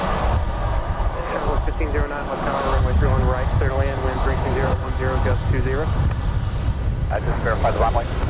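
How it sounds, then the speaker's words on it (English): A Delta Boeing 717 airliner touching down at Dallas Love Field, its engine roar loud and continuous, with a commentator talking over it throughout. "717 is about to touch down"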